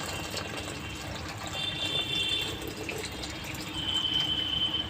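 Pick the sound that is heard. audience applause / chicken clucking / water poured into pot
water poured into pot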